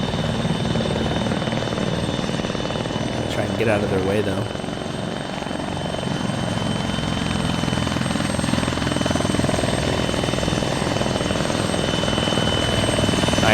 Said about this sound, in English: If we've got 2 choppers coming in, you're not going to need 2 choppers for just 3 people